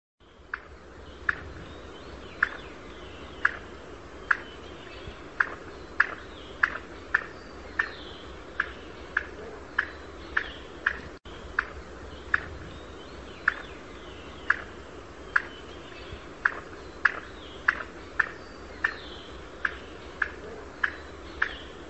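A pheasant's call recording: sharp calls repeat at regular intervals of about a second over a quiet outdoor background, with no voices.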